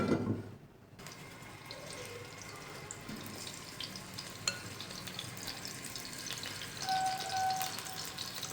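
Marinated chicken pieces fry in hot cooking oil with a continuous close sizzle and crackle. The sound swells as the pieces settle into the pan and carries on steadily with no voices.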